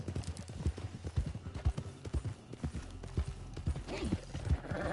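Horse hooves in Red Dead Online clip-clop in a steady trotting rhythm, fairly close, with a faint whinny and ambient game noise underneath.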